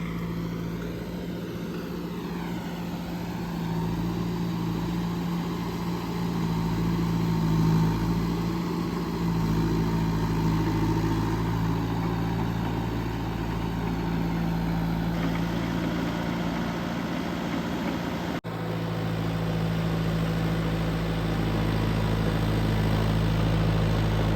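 A tractor pulling a rotavator to puddle a paddy field gives off a steady, close engine drone with a constant low rumble, running alone without any voices.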